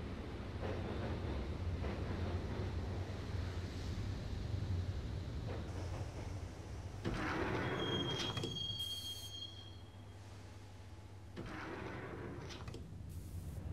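A subway train in the game Max Payne rolls along the tracks toward Roscoe Street Station, with a steady, close rumble, rattling carriages and metallic wheel squeal throughout, and no voices.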